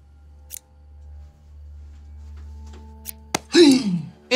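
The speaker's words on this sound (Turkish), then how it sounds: "Saniye, elimde makas var." Scissors snip a few times, sharp isolated metallic clicks close by in a quiet room, followed by a rustle and a breathy vocal sound near the end.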